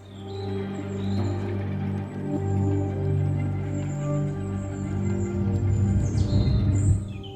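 A bay-backed shrike calls near Bhigwan, India: several short, high chirps and sharper notes sit above a constant low mechanical hum, with a brief busier burst of calls near the end.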